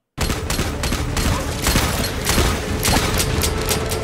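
Dense, continuous gunfire in the video game Fallout, with rapid overlapping shots and booms forming a loud, sustained barrage throughout.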